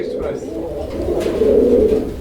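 Pigeons cooing at a pigeon farm, a steady low murmur of soft coos from several birds, close and continuous, with people talking nearby.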